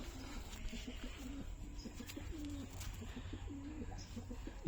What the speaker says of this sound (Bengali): খুবই সুন্দর কোয়ালিটি পায়রা